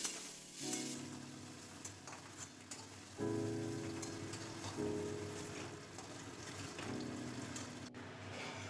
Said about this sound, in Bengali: ওই পনিরটাকেই এখন একটু নুন হলুদ দিয়ে ভেজে রেখে দিই